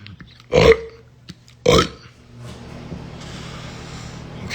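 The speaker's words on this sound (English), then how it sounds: "This is why you guys hear me burping." Two loud, close burps from a person, spaced about a second apart, followed by a low steady background hum.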